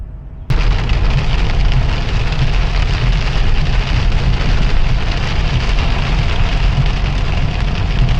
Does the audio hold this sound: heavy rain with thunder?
yes